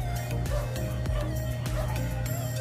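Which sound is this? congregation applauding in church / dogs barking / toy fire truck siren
dogs barking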